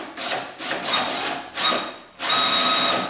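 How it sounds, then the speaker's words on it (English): A power drill grinds in several bursts, biting into a pickup truck bed with a rough, whining buzz, pausing briefly between pushes. "And then drill it in straight,"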